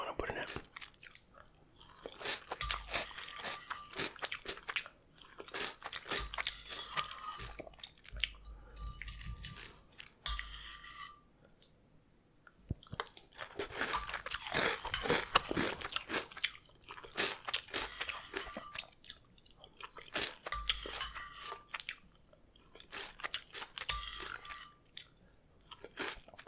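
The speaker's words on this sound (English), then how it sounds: "I'm just gonna eat the rest directly from the bowl because it's hard to get that little bit out." Classic cereal eaten from a bowl, close-up crunching and chewing in repeated bursts with quiet pauses between bites, soft and intimate, with faint spoon sounds and no clear talk.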